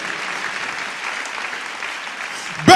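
A church congregation claps in sustained, even applause, filling the room for a few seconds before a sudden louder thump at the end.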